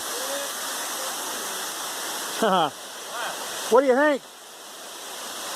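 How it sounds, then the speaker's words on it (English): A waterfall on the Appalachian Trail in Tennessee rushes in a steady, full hiss. Voices speak briefly over it, and a bird whistles or chirps. "Nice waterfall."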